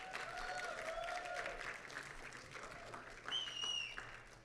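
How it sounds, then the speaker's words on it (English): Faint, distant audience applause at a TEDx ElmPark talk event, a steady wash of clapping for a departing speaker that holds through the whole stretch, with a few thin tonal whistles or squeals rising above it. "let's give her one more round of applause"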